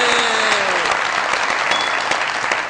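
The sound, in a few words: audience applause for Usman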